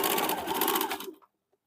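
A sewing machine stitches the seam of a gents short kurta, a dense steady mechanical whir running continuously for over a second, loud and close, then stopping abruptly, followed by a faint tiny click.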